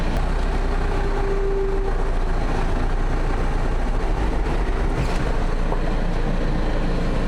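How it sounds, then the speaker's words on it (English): Four-wheel-drive vehicle with all wheels locked reversing off-road at a forest cabin site, a steady low engine drone and rumble, continuous and close. "I think I need to reverse out of here."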